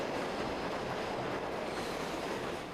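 A New York subway E-train rolls past with a continuous loud rumble and steady rail noise, faint wheel squeal mixed in, holding level throughout before easing slightly at the end, with no talk.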